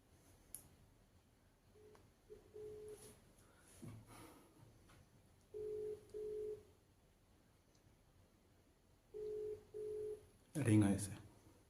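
An outgoing phone call rings back with paired tonal bursts, two pulses heard twice, fairly clear over faint room noise, with short bits of talk and a brief loud rustle near the end.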